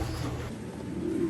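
Common-looking pedigree pigeons coo in a low, soft, rolling murmur, close and brief, with no talking.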